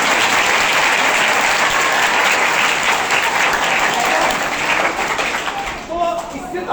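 An audience claps loudly and steadily throughout, a dense wash of applause at an online staging of a Hindi play during the Bharat Rang Mahotsav 2024 festival, thinning slightly near the end.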